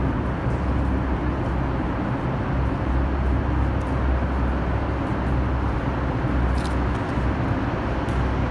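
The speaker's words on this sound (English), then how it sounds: "this is what it sounds like when a car comes behind you in a tunnel" A camper van approaches from behind inside an old, leaking road tunnel at the 2000 m summit of the Transfagarasan Highway in Romania, a loud, continuous, reverberant roar of engine and tyres that fills the tunnel throughout.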